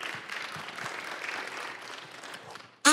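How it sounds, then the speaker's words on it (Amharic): Church congregation applauding at a sermon, a steady wash of clapping hands that holds through the whole stretch before breaking off sharply at the end. "ነቃ ብሎ አጨብጭቡ ለጌታ።"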